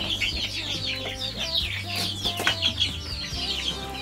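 Chickens clucking steadily in a rural Brazilian yard near a house under renovation, a busy overlapping flock at moderate distance, with some brief rustling.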